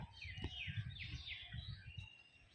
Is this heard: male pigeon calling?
yes